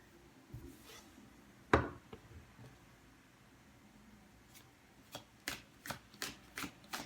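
Tarot cards shuffled, with one sharp slap and then a quick run of soft riffling flicks toward the end, close and quiet.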